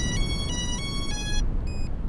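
A fishing drone's handheld controller powers on with a short sequence of bright electronic beeps, several stepped tones in a row followed by a final pair, sounding over steady beach wind and surf.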